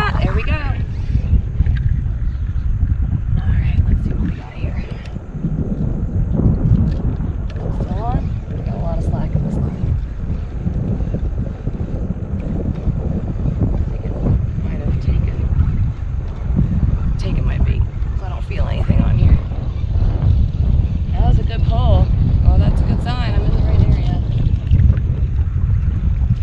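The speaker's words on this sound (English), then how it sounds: "It's real windy" Strong wind buffets the microphone in a steady low roar over open water from a kayak off Topsail Island, North Carolina, with faint splashing and occasional distant voices.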